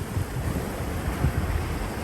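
Sea surf and gusty wind on the shore at South Padre, Texas, a rough, continuous wash of waves with buffeting wind noise across the microphone and no speech.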